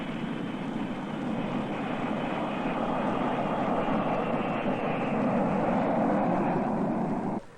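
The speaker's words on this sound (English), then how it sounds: "Slowly and carefully, their jet approaches the landing field. And soon the wheels touch the runway in San Francisco." A 1960 jet airliner rolls in after landing at San Francisco, its engines giving a steady, loud roar and whine that swells slightly before cutting off abruptly.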